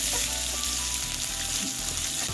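Spices with coriander seeds and black pepper frying in oil for a jackfruit masala curry, a loud, dense, continuous sizzle up close.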